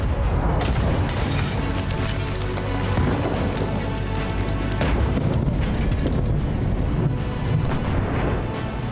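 Israeli air strikes pounding southern Lebanon, heavy booms and rumbling blasts rolling continuously through a dense, loud wall of low-frequency noise with no talk over it.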